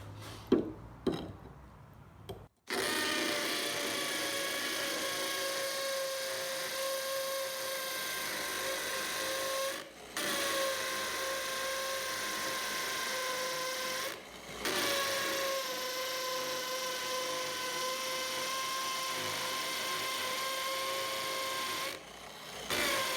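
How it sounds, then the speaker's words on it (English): A Festool PDC 18 cordless drill runs steadily in hammer mode, a loud rattling buzz drilling a hole straight through for about twenty seconds with a few brief pauses. "drill a hole straight through it"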